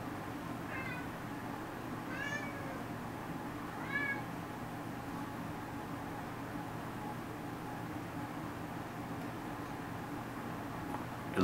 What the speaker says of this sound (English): It looks like my kitty cat is demanding that I care for her.